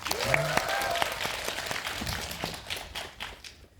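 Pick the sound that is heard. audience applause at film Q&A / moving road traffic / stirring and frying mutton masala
audience applause at film Q&A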